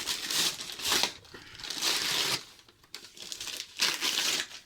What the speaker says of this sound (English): So we'll unwrap it like it's Christmas.